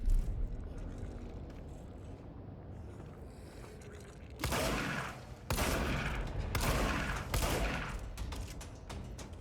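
Shotgun blasts from the Control video game, three loud broad bursts at roughly one-second spacing over a low, steady background rumble, with no speech.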